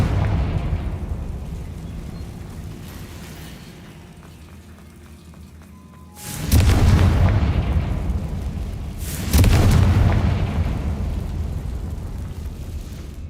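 Two heavy booming blasts from the Confringo spell in Hogwarts Legacy, each a sudden loud explosion that rolls off into a long rumbling decay, a few seconds apart after a quieter stretch.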